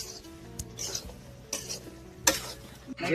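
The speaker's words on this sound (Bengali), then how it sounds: "আর এরপর হালকা করে লেড়ে নেবো এটা।" Mushroom and potato curry with gram flour being stirred in a pot on a clay stove, several scraping strokes of a spoon against the vessel over a gentle sizzle, close with no talk.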